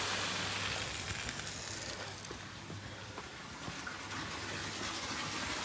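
A bilge pump moves water from a koi pond into a 1000-gallon grow-on tank, giving a steady broadband rush of pouring, filling water with a low hum beneath, continuous and fairly close throughout.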